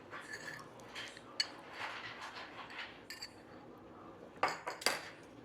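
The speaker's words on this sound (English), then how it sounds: "I'm gonna attempt to use a whisk" A metal whisk clinks and rattles against a mixing bowl while gluten-free carrot muffin batter is being mixed, with soft irregular scraping and several sharper taps near the end, close and fairly quiet.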